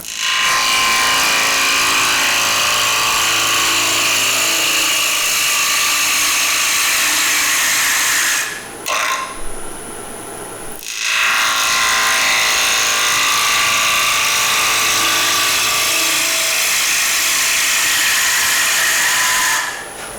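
A wood lathe turns a square-edged bowl as a gouge cuts with the bevel rubbing, giving a loud, steady broadband whir and scrape, broken by a brief quieter pause near the middle before the cut resumes.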